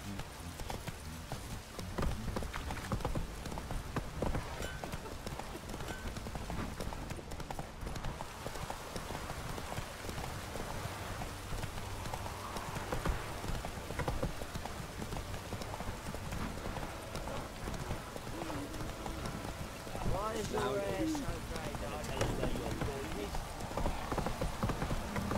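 Horse hooves clip-clop at a steady gallop in The Witcher 3, a continuous rhythmic clatter running throughout with a soft rain-like hiss and occasional speech.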